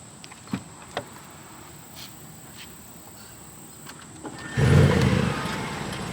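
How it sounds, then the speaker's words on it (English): A few faint clicks and taps, then a 2021 Audi S8's engine abruptly cranks and catches on a cold start, settling into a loud steady idle close by. "Let's get you guys a little bit of a cold start."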